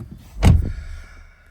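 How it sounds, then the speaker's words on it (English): A car door on a 2023 Mini Countryman John Cooper Works slams shut with a single close, solid thud, followed by quiet cabin ambience. "Shut this door."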